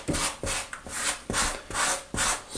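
A float or trowel works grout into shower wall tile with six even, rhythmic scraping strokes, each a rough rasping rub, close and clear with no talking.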